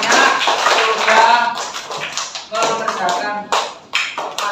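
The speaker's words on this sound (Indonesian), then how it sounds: "Tepuk tangan buat kelas 4 di Doser" A class of fourth-grade schoolchildren applauding, a dense burst of many hands clapping that swells and then breaks into scattered uneven claps, close, with voices mixed in.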